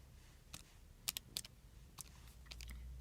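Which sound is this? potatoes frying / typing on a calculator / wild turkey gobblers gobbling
typing on a calculator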